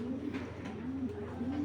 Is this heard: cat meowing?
no